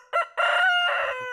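A rooster crows loudly and close by, a brief opening note and then a long drawn-out call that trails off, with no talk over it.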